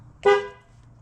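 A single short car horn honk from an MG X-Power SV after horn replacement, fairly loud and close, fading quickly into quiet background.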